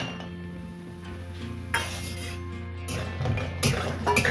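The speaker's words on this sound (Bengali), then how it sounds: "প্রথমে আমি বড়ি কটাকে ভেজে নিচ্ছি।" Bori lentil dumplings frying in mustard oil in a pan for a bottle gourd greens dish, giving a steady low sizzle broken by sharp metallic clinks and scrapes of a utensil against the pan.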